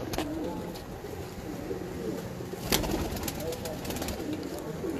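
Pigeons coo repeatedly in low, murmuring calls against constant background noise, with one sharp click partway through.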